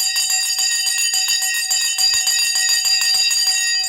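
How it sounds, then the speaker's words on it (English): A bell rings continuously and loudly at the stock market close, a rapid, steady metallic clatter with bright sustained overtones, heard alone. "The bell has gone."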